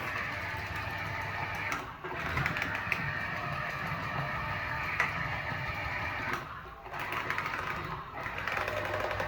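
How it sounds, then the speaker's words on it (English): A small juicer grinds through produce with a busy, rattling mechanical whir, steady and close, briefly dipping twice as the load shifts before churning on. "because this is a smaller machine for this, so it's going to take some time, but it will still juice."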